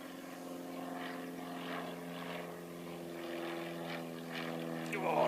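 A small general aviation propeller plane from the Aero Club at Christchurch Airport drones steadily at a moderate distance, a continuous engine hum that swells slightly toward the end.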